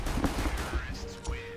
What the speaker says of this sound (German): Ich habe Schüsse gehört.